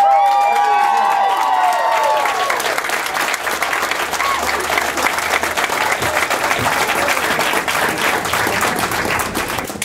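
A lounge crowd claps steadily and cheers for a country singer, dense applause holding strong for about ten seconds, with an opening whoop and whistle and a few voices calling out.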